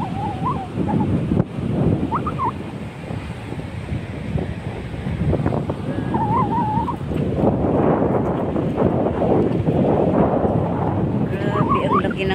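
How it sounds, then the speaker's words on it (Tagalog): Big ocean waves surge and break under strong wind that buffets the microphone, a continuous rough wash with people exclaiming over it and birds chirping here and there. "Grabe, ang laki ng alon."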